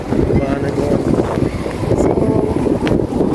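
Strong, cold wind buffets the microphone in a steady low roar on an outdoor walk through a town, with a voice briefly speaking over it.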